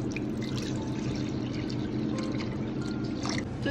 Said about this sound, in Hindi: अब हम इसमें बहुत चिल्ड पानी डालेंगे।